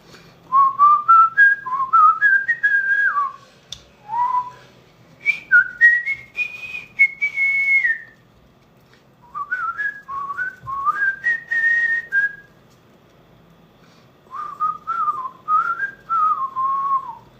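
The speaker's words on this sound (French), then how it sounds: "Et je les ai accompagnés, moi aussi, en sifflotant" A person whistles a worship song alone, a clear, close melody in several phrases with short pauses between them, each line rising and falling in a bright, birdlike tone.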